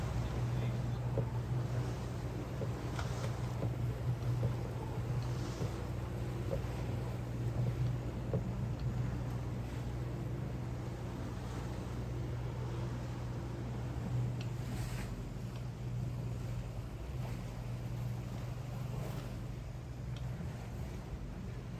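A boat motors through choppy water near Newport Bridge: a steady low engine drone runs throughout, mixed with wind buffeting and water wash.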